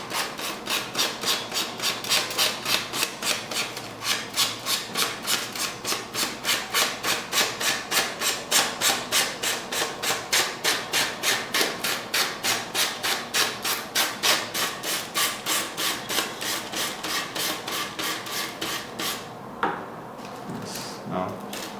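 Sandpaper rubbed briskly back and forth along the edges of a craft piece being prepared for a colour tissue paper covering, a steady rasping rhythm of quick strokes running throughout at close range, with a brief pause near the end.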